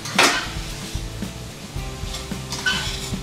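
Garlic frying in a pan for chicken korma gives a soft, steady sizzle under a few clanks and scrapes of a utensil against the pan, with no talking.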